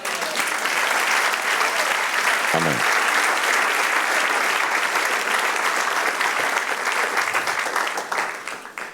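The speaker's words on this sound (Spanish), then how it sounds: "Denle un aplauso al Señor." A church congregation breaks into loud, sustained applause that fills nearly the whole stretch, then tapers off at the very end; a single voice briefly speaks near the start.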